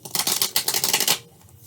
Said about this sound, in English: I'll shuffle these.